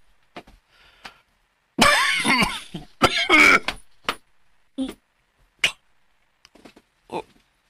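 A person coughs in several harsh, loud bursts clustered in the middle, with scattered shorter throat sounds and small clicks before and after in an otherwise quiet room.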